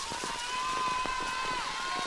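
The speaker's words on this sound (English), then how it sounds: "the rain really, really picking up here in all fronts of the match" Heavy rain falls steadily on an outdoor ultimate frisbee match, a constant dense hiss that holds at the same level throughout with faint scattered thumps underneath.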